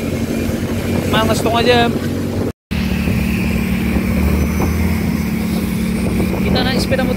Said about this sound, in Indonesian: Kita naik sepeda motor Mio guys. Mio tahun 2013.